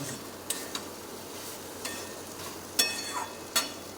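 Ash gourd ghonto being stirred in a pan, with a soft background sizzle broken by several sharp scrapes and taps of a spoon against the pan, close and fairly quiet.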